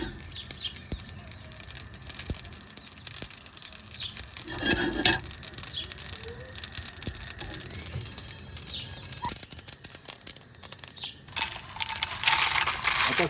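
Mustard seeds spluttering in hot oil in a pan, a continuous dense patter of small crackles and pops over a constant sizzling hiss, close by and fairly even in level.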